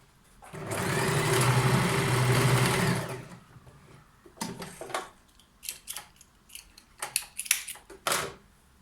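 A sewing machine stitches a pleat on wide-leg trousers in one loud, steady run of about two and a half seconds, followed by softer clicks and handling of the fabric.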